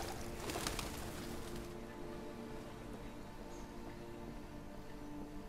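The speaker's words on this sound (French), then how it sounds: "Oh, les oiseaux, les oiseaux, les oiseaux." Birds heard faintly in a Detroit video game scene, soft calls scattered over a low ambient background, with a brief burst of noise near the start.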